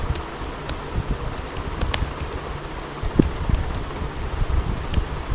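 Steady clicking keystrokes on a computer keyboard, close and moderately loud, in irregular bursts over a low fan hum.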